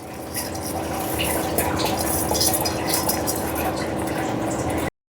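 Water poured into a pot of washed, soaked rice mixed with garam masala, a steady close splashing and trickling stream lasting about five seconds before stopping abruptly.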